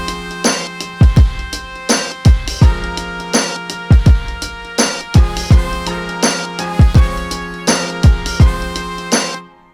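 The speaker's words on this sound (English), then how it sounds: "it sounds more like the attack of the brass player actually" Punchy sampled brass stabs with quick grace-note attacks, repeating in a steady rhythm, loud and upfront with no voices.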